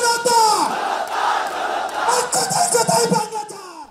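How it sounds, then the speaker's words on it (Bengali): A jubilant crowd chants revolutionary slogans on Manik Mia Avenue in Dhaka, many voices rising and falling in loud, continuous shouted rhythm that fills the open street. "মানিক মিয়া এভিনিউতে তখন উল্লসিত জনতার বিপ্লবী স্লোগান"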